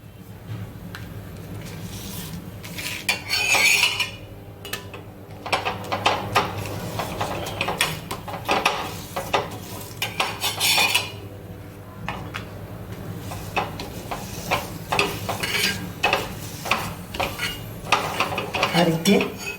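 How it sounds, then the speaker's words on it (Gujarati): Papad roasting in a pan with a few drops of oil: repeated scraping, tapping and clattering of a utensil against the pan, coming in irregular bursts over a low steady hum, close by and moderately loud. "આ રીતે આપણે પાપડ શેકી લઈશું"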